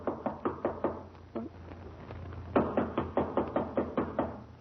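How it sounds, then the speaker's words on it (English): Knocking on a door as a radio sitcom sound effect: two bursts of rapid, sharp raps, the first a run of about eight knocks, then a brief pause, then a louder run of about ten, near and clear with no talk. "try knocking"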